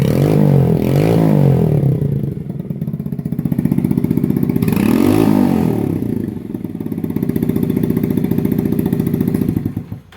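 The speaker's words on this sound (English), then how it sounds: "It's burning off some of the stuff from inside this brand new exhaust, but it sounds pretty good." A small Grom-clone motorcycle engine with a brand-new exhaust idles loudly and close, a steady throbbing putter with slight rises in pitch and a faint metallic rattle.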